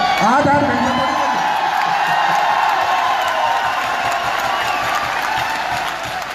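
Audience applause at a motivational business speech, a dense wash of clapping with some cheering and voices, loud and sustained throughout before tapering slightly at the end.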